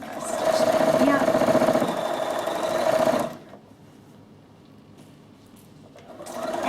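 Sewing machine stitching down the sides of a beach towel bag runs in a steady whirring hum for about three seconds, then stops, leaving near silence before starting up again at the end.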